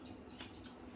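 Scissors snip close by through the fur of a Bichon x Westie dog during a full groom, with a few quick, crisp cuts and one sharper snip standing out in the middle.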